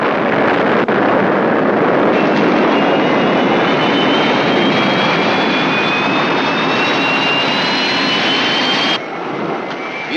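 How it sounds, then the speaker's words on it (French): A spacecraft engine roars at full power on ignition and takeoff in a science fiction series, a loud continuous rushing blast with a faint rising whine, dropping slightly near the end; no one speaks over it. "Mise à feu. Décollage."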